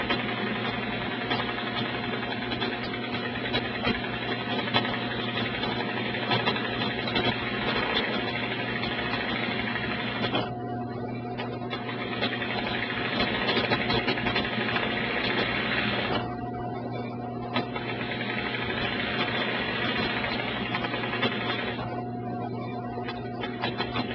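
A domestic sewing machine stitching quilted feathers runs in a steady, fast mechanical whir, with three short pauses where the needle stops before resuming, close and continuous.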